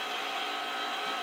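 Stand or hand mixer whirring steadily as it beats powdered sugar into cream cheese frosting for a small confetti cake, a continuous close motor drone with no talk.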